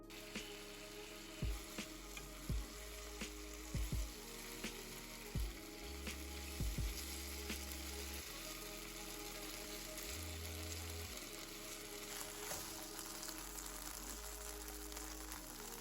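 Tofu frying in a pan with a little teriyaki sauce, a continuous close crackling sizzle with several low thumps and clatters of the pan or spatula early on.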